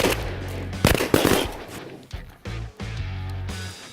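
Gunshots ring out in a rapid, sharp series of loud cracks with short gaps between bursts, close by, amid outdoor commotion.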